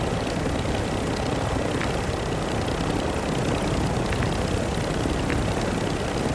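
A helicopter in Call of Duty: Modern Warfare II DMZ gives off a steady, dense engine and rotor roar that fills the whole stretch with no talk over it.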